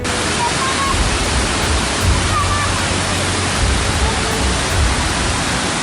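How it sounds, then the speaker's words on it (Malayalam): Flash flood torrent in a hillside river at Karuvarakundu, Malappuram, after heavy afternoon rain, a loud continuous broadband roar of rushing water that fills the whole scene steadily without letting up. "ഒലിപ്പുഴ കല്ലൻപുഴ തുടങ്ങിയ പുഴകളിലും തോടുകളിലും മഴയോടൊപ്പം മലവെള്ളപ്പാച്ചിലുണ്ടായി"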